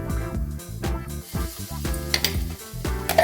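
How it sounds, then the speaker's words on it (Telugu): Masala paste of cumin, poppy seeds, coriander and ginger-garlic is fried in a pan, with a close sizzle broken by repeated scraping and clinking of a spoon against the pan. "ఇప్పుడు మనం దీంట్లో మసాలా కూడా వేసి బాగా ఫ్రై చేసుకుందాం"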